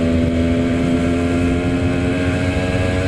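A 2009 Cagiva Raptor 125 with a de-restricted 125cc two-stroke engine drones loudly and steadily at a constant pitch throughout, close up, with no voices.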